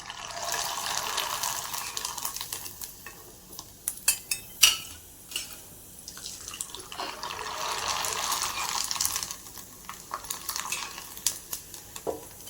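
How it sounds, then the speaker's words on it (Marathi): Kurdai, a dried wheat snack, fries in hot oil with a continuous crackling sizzle, interrupted by clattering stirs and utensil knocks against the pan around the middle; no speech. "हे पहा, आता आपण कुरडई तळतोय."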